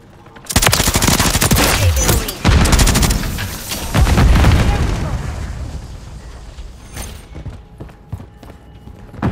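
Rapid bursts of MK46 machine gun fire in Call of Duty MW3, loud and dense with booming impacts, then fading into scattered shots and rumble; voices speak over the din.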